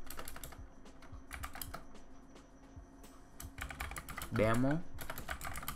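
Rapid typing on a computer keyboard while coding a Vue.js tutorial, with bursts of close keystrokes in uneven runs, heard under and between a man's speech.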